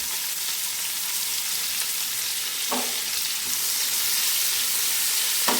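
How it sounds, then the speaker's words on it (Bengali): Whole garam masala and onions frying in hot oil, a steady broadband sizzle that fills the clip at an even, close level with a couple of brief stirring clicks. "এই গরম তেলে সেই গোটা গরম মশলাগুলো দিয়ে দিলাম। গরম মশলা ফোড়নের একটা গন্ধ বেরোতেই ওই পেঁয়াজগুলো ছেড়িয়ে দিলাম।"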